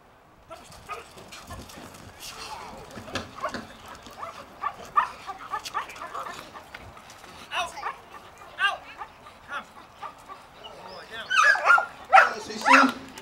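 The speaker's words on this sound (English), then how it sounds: "Next dog we have Max, another Belgian Malinois" Belgian Malinois named Max barking at an outdoor K9 shootout event, a series of sharp repeated barks over crowd chatter and a voice talking, growing louder and more frantic toward the end.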